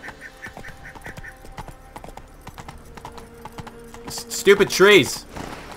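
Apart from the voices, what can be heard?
horse hooves on a path in the video game The Witcher 3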